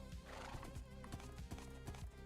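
A horse in a video game clip-clops along with a steady rhythm of hoof thuds and gives a faint whinny. The sound is quiet and seems distant.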